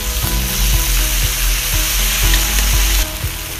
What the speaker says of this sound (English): Add a little bit of soy sauce.